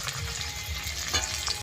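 Chopped tomatoes tipped onto reddish-browned onions frying in oil, making a loud, dense sizzle with a brief stirring scrape, no talking, for a spicy Bengali koi fish dish.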